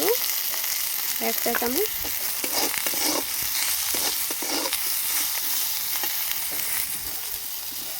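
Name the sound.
bitter gourd frying in pan with turmeric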